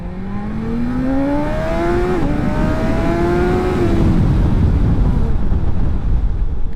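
BMW M1000XR superbike at speed, its engine revving up in a rising whine, briefly dropping at a gear change and climbing again under heavy wind roar, close and loud.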